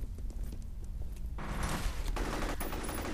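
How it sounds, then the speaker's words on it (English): Gunfire in the F.E.A.R. Perseus Mandate video game, a dense burst of automatic fire breaking in after a quieter start, loud and close. "We're just shooting some dudes."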